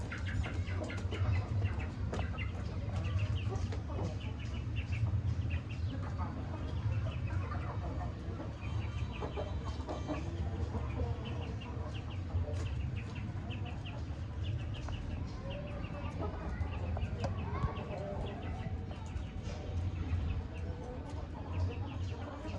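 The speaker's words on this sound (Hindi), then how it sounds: "बाकी आपके सामने परिंदे फुल एक्टिव है माशाल्लाह" Aseel chickens on a hen farm cluck and call over a constant low background murmur, the sounds scattered and moderately distant.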